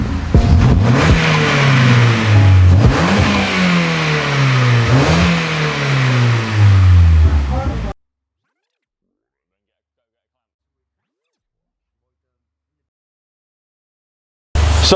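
A Ford Fiesta fitted with a loud upgraded exhaust revs hard several times, the engine note climbing and falling in repeated sweeps close by, voices talking over it, then abrupt silence before a brief burst of sound returns.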